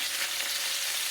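Southern fried potatoes browning in a pan, a brief, even, close hiss of frying oil with no pauses and no talk.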